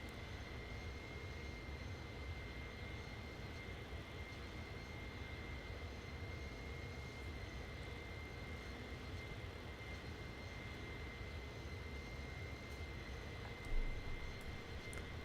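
The iniBuilds A310 jet engines at cruise in Microsoft Flight Simulator make a constant, even cabin roar with a steady high whine on top, unbroken and fairly loud throughout.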